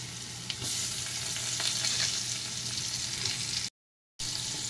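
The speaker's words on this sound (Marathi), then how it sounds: "बटर आता वितळलेला आहे, त्याच्यामध्ये मी हा कांदा घालत आहे। त्याच्यानंतर हा टोमॅटो घालत आहे।" Onion and tomato frying in melted butter, a steady close sizzle with light stirring throughout and a short silent gap near the end.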